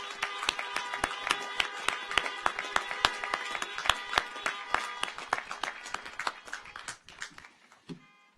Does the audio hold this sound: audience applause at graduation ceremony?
yes